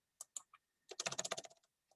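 Typing on a computer keyboard, a few isolated key taps followed by a quick burst of rapid clicking, then a couple of scattered taps, close and quiet in an otherwise silent room.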